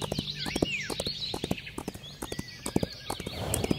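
In the Wild Horse Islands video game, a horse's hooves clip-clop in a quick, irregular rhythm against ambient game sound, with a brief whinny rising partway through.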